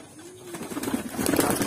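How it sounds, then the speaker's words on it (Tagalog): Soft, low cooing from pigeons builds gradually against a background of rustling and faint bird activity. "papakilala ko sa inyo yung mga ibon"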